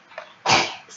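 A single sharp sneeze bursts out close by, loud and brief, after a faint earlier sound, during a live market review stream.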